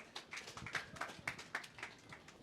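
A stage audience claps for the next mimicry artist at a Bollywood comedy show, a faint, sparse patter of hand claps rather than full applause.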